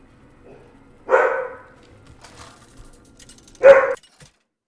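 A dog indoors barks at children passing the house, two sharp separate barks about two and a half seconds apart, loud and close against a quiet background.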